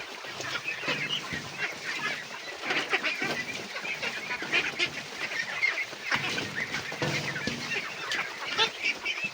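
Domestic ducks (itik) on a farm crowd together at feed mixed with azolla, giving a continuous chorus of nearby honking, quacking calls over busy background activity, with no talk.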